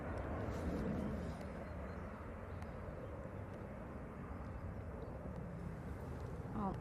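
A Ryanair airliner landing at Manchester Airport gives a steady, broad jet roar that holds for the whole stretch at moderate distance, with no talk over it.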